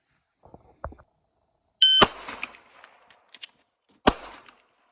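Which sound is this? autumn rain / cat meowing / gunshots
gunshots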